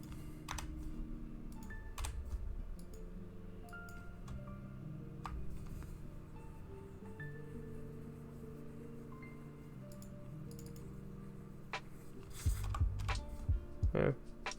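Keys clatter steadily on a Glorious computer keyboard in a continuous stream of close, quick clicks over a faint background hum, with a louder burst of keystrokes near the end.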